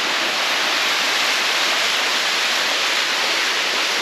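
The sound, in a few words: mountain waterfall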